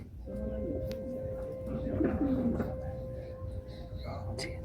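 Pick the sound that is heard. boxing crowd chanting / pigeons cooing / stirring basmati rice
pigeons cooing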